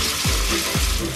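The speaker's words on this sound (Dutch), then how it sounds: "Ik heb flink wat olie in de pan. Laat hem goed heet worden. En dan gaat daar zo meteen de spaghetti bij." Hot oil sizzles steadily in a frying pan on the stove, a continuous close hiss with two brief low bumps from the pan.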